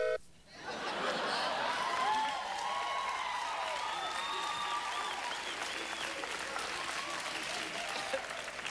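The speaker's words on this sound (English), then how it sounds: "Even that guy is clapping." Studio audience on a TV show breaks into loud sustained applause that swells quickly and holds steady, with scattered laughter mixed in.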